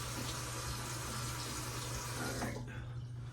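Water runs steadily from a tap for rinsing after a shave with a Rockwell razor, a continuous soft hiss and splash heard close but quietly, easing off near the end, with no speech.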